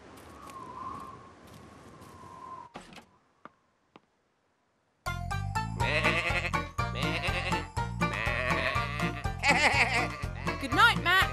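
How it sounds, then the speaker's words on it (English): Cartoon sheep in the animated farm series Tractor Tom bleat repeatedly after a quiet pause, the bleats layered over a busy soundtrack and character voices. "By then, Fee and Matt had found the sheep."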